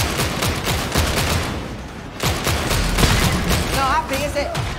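Rapid gunfire in the video game Darktide, dense bursts of shots with a short pause, then more firing overlaid by game effects and brief squealing tones near the end.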